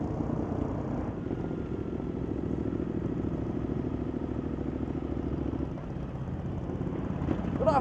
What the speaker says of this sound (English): There's some crazy bikes here today.